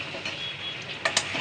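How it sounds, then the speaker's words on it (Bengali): Potatoes drop into hot oil with spices for aloo dum, giving a steady close sizzle with two quick louder crackling bursts near the end of the short stretch. "এবার এখানে আমি আলুটা দিয়ে দিচ্ছি, আলুটা দিয়ে দিলাম।"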